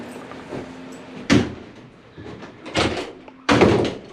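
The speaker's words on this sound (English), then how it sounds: "could you pull the door shut, please?" The wooden door of the oldest surviving naval chapel at Mare Island Shipyard is pulled shut, giving a few heavy thuds and a creaking, scraping swing in a quiet, echoing interior.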